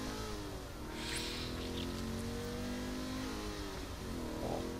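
A car engine revs and accelerates in the video game Saints Row: The Third, a steady mid-pitched roar with rising and falling pitch and brief game effects, faint and without talk.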